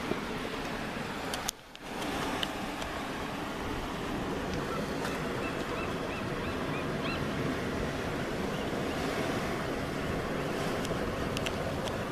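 Continuous wash of surf and wind at the Heceta Head tidepools on the Oregon coast, waves rolling in steadily with gusty microphone noise and a brief dip early on, no talking.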